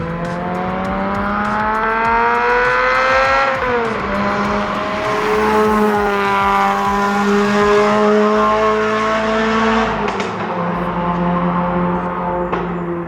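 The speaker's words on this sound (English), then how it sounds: "this little yellow car pops on overrun and has the most intoxicating crescendo" A Lotus Elise sports car engine revs hard and climbs in pitch, eases briefly, then builds again in a loud, sustained crescendo, close by with no talking.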